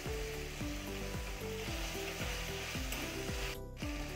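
Soy chunks fry in a pan with soy sauce and tomato sauce, giving a steady loud sizzle under a repeating stepped musical tone pattern, with no speech.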